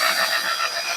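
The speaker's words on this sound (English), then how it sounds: "All right, so I got my drill here" A handheld power drill with a mixing paddle whirs steadily as it stirs a mix, loud and close, in one brief continuous burst with no talk.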